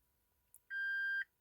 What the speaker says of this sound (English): Too long beep.